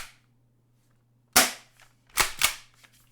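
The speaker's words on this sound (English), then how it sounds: "You racking a shell or you putting a round into the chamber is" An airsoft pump-action shotgun is racked to chamber a shell, giving sharp mechanical clacks: one hard snap after a silent pause, then two quick clacks in close succession, near and alone.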